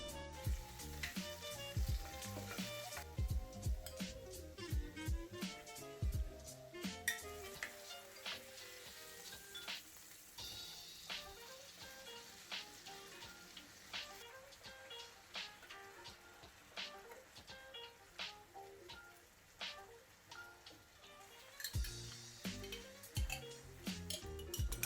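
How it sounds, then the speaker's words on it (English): Ingredients for bolognese pasta cook in a pan with a steady, quiet sizzle and frying crackle, broken by frequent clicks and scrapes of stirring. "This was followed by cooking the rest of the ingredients in the pan."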